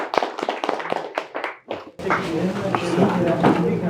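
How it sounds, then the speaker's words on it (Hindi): Classroom audience at an AC PCB repair course giving scattered claps at first, then a sudden fuller burst of clapping that continues steadily, with talk mixed in early on. "जोरदार तालियां इनके लिए।"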